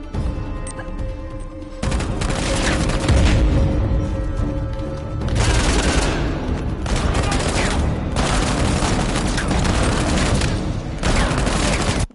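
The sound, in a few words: shotgun fire in the video game Uncharted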